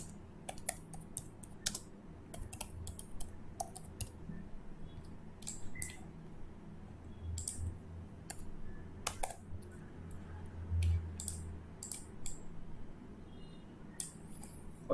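Someone types on a computer keyboard while drafting a house plan in AutoCAD, with irregular bursts of close, light key clicks over a low room hum.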